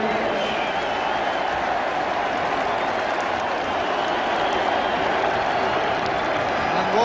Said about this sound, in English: Walsh taking the applause of the crowd